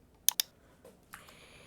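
Computer mouse clicks while a comparison-table template is selected in WordPress: two crisp, close clicks in quick succession, then a softer third click a moment later, in an otherwise quiet room.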